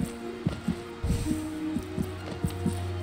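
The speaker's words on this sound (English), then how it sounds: "I hear a heartbeat." Heartbeat in the game Hollow Knight: a regular, deep double-thump pulse repeating about once a second over a low droning hum, with no voices.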